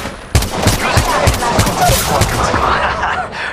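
Gunfire in the mobile shooter game Apex Legends Mobile, a rapid burst of about eight evenly spaced shots over a constant din of game noise, loud and close.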